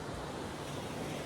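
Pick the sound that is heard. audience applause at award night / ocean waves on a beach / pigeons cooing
ocean waves on a beach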